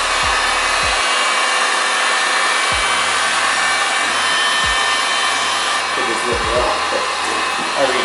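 A heat gun blows steadily and loudly up close as it warms vinyl wrap film, a continuous airy roar broken by a few low thumps of handling.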